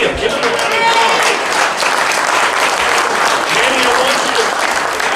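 An audience at an outdoor political rally applauds and cheers steadily for several seconds, a loud continuous wash of clapping and voices with a speaker talking over it.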